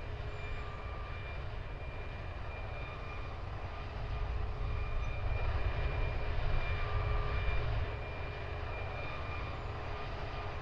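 Airbus A340 airliner engines taxiing in the Roblox game Aeronautica: a steady, droning jet whine that swells louder midway, then settles back, with no talking.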